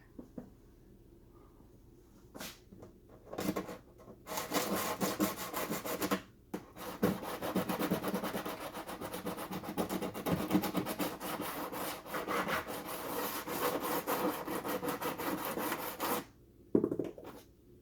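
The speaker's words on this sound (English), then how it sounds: "here's the stone I use to clear that track." A stone rubbed along N scale model railway track to clean it makes bursts of gritty scraping strokes. The strokes come in quick back-and-forth runs with short pauses between them, close and fairly loud.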